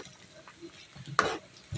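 Mutton karahi with whisked yogurt is stirred in a hot pan, a short scrape and stir over a soft background sizzle.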